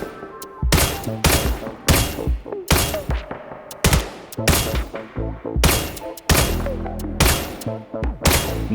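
Rifle gunfire in a VR shooter game: loud, close, evenly spaced shots with sharp booming cracks, about ten of them, each ringing out before the next, with no talk.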